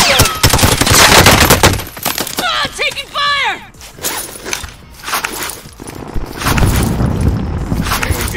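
Gunfire crackles in Call of Duty: Warzone, with loud bursts of automatic shots and sharp cracks in close succession, pausing briefly mid-clip before the rattling fire resumes, along with some tonal game effects.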